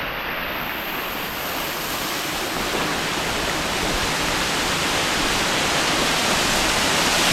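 Rushing water from a small waterfall in Kanthalloor, Kerala, pours continuously at a steady, loud level, a broad wash of cascading falls that carries on unchanged throughout.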